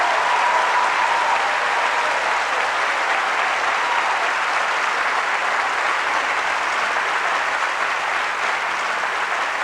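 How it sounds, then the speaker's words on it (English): A church congregation claps their hands during a sermon, filling the room with a loud, continuous roar of applause that stays steady and unbroken from start to finish, with no voices rising above it. "Clap your hands."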